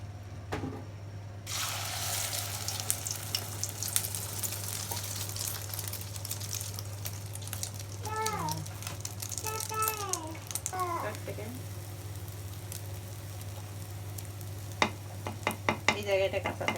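An egg sizzles in a pan on a home stove under a steady hum, with close scraping and clatter as it is turned, and a voice briefly heard in the background.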